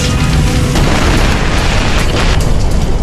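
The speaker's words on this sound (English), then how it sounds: "A massive explosion rocks Forrestal." A massive explosion aboard the aircraft carrier Forrestal gives a loud, sustained roaring blast that fills the whole clip with dense rumbling and crackling.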